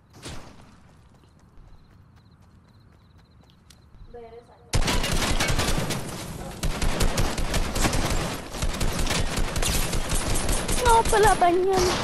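Loud, dense bursts of automatic gunfire from a Fortnite match erupt after a quieter opening, rattling almost continuously close by with a brief voice near the start.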